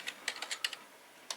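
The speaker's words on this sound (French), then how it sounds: "on va taper l'adresse" Keys clatter on a computer keyboard as a web address is entered on an old Compaq Presario desktop, a quick irregular run of close, crisp taps with a short pause before the final strokes.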